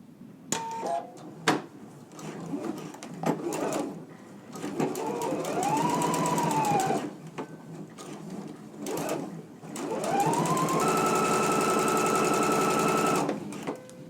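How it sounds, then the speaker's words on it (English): A sewing machine runs two long stitching bursts along a 7/8-inch seam allowance on a ruffled top, its steady motor whine preceded by scattered clicks and handling taps, close and clear. "Now we're going to go to the sewing machine and we're just going to stitch at a 7/8 of an inch seam allowance."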